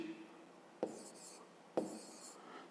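A pen writing numbers by hand on paper, two short scratching strokes each opening with a small tap, faint and close, in a quiet room with no talking.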